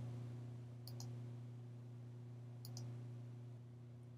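A computer mouse clicks twice, each time as a quick double click, faint against a steady low electrical hum in a quiet room.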